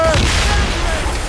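Ship cannons in the Assassin's Creed Rogue naval battle let off a short booming volley, loud and rumbling, with shouting voices over the blasts.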